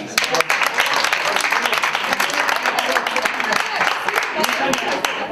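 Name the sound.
audience applause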